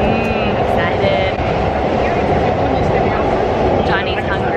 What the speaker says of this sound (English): And a train is coming, so you probably didn't even hear me.